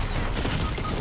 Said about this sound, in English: who's shooting from behind?